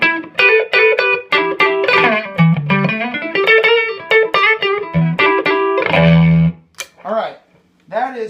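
Electric guitar on its neck pickup, played through effects pedals with a clean tone, a quick series of loud picked notes and short chords ending with ringing tones, and a voice briefly talking near the end.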